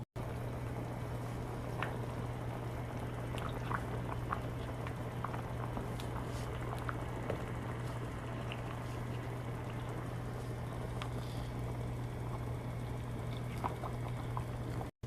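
Neck bone soup simmers steadily in a pot, a low continuous bubbling hiss with scattered faint pops and ticks, with no talking.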